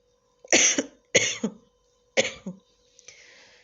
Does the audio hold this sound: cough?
yes